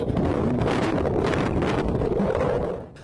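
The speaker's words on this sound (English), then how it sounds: "His body camera capturing the rushing, muffled sounds of being submerged" Loud, steady rushing roar with a muffled, smothered quality, picked up by a deputy's body camera while submerged and pushed under a drainage pipe; it continues unbroken for about three seconds, then eases slightly at the end, with no talking.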